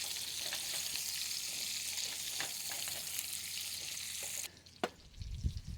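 Food sizzles and fries steadily in leftover grease at a woodland campsite, a continuous loud hiss with a few scraping stirs, then the sizzle drops away near the end, leaving quieter clatter.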